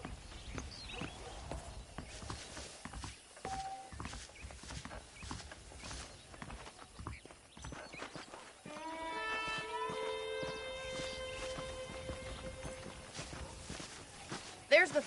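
Horse hooves clip-clopping in the video game Red Dead Redemption, faint irregular steps under dialogue and ambient noise, followed by a sustained musical swell later on.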